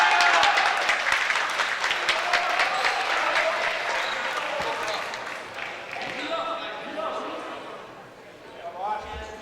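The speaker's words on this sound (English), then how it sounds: "The Clan bench applauding that." A basketball team's bench applauding during a men's college game, with a burst of clapping and cheering in a gym that gradually fades, under an announcer's commentary.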